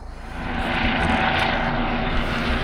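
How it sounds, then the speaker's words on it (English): A helicopter flies low over a wild campsite, its steady rotor and engine drone swelling in from the start and holding loud and close throughout, with no talk. "there's the helicopter"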